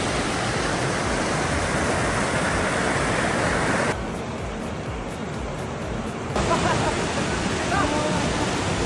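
The Tugnaw River flows steadily in a dense, broad rush of water heard up close, its level dipping briefly in the middle and then returning.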